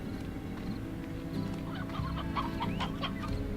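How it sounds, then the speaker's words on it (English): Video-game chickens cluck and chirp in short overlapping bursts over a steady low musical background, fairly faint and with no talk. "Ah, yes, I hear chickens."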